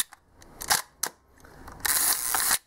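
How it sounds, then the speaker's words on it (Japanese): A Hasselblad 500C/M medium-format camera body fitted with an A16 magazine and a PME51 prism finder fires its shutter with sharp mechanical clacks. A longer whirring, scraping stretch follows, close and crisp with no voices. "安全装置になってますんで、これを引いていただくと、シャッターが切れる状態になってますね"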